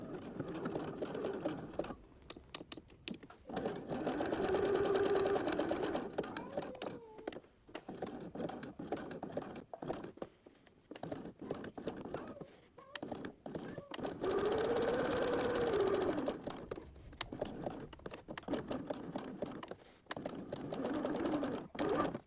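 Sewing machine stitching a narrow, short, close zigzag around the edge of a fabric kitty applique: a steady, fast mechanical whirr that runs in long stretches and pauses briefly between them, close and moderately loud.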